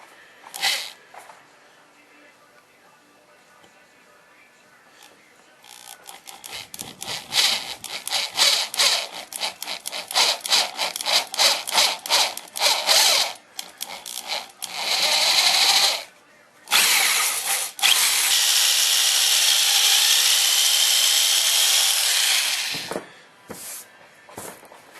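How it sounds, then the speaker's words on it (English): Power drill boring a hole into the metal of a Cub Cadet pulling tractor while building a kill switch, heard as a run of close, loud bursts that settle into a long steady whine before stopping. "So just drill right there, right in the center."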